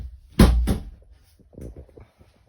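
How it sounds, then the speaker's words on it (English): A storage compartment door on a 2023 Wildwood FSX 178BHSK travel trailer is opened, giving two quick close latch clacks followed by a softer rattling thud, with no talk. "On each side, just open that door, you have storage all the way to the back."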